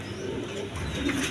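Pigeons coo softly nearby in a short, low burble, with a faint chirp near the end.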